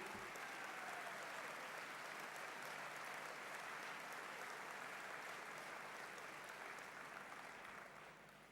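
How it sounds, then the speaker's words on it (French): A large audience applauds steadily throughout a political speech by the cdH party president, a dense, sustained wash of clapping that thins slightly at the end. "Vous pouvez applaudir les femmes en même temps"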